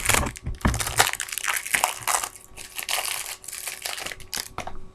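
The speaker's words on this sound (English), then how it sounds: "Let's open the pack" A Panini Gold Standard trading card pack being torn open by hand, a run of close, loud crinkling and crackling foil wrapper sounds in irregular bursts.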